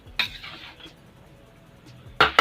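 A spoon mixing lemon rice with coriander in a pot, a few sharp metallic clinks and scrapes separated by quieter stirring.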